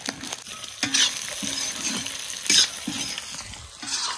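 Potatoes frying in hot duck fat in a village kitchen, a steady loud sizzle broken by repeated scrapes and stirs of a utensil against the pan.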